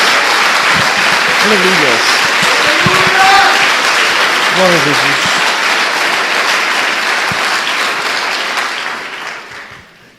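A church congregation gives a long round of applause to Jesus, dense and loud clapping that carries on under a preacher's voice before fading out at the end.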